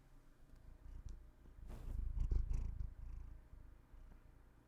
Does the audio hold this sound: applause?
no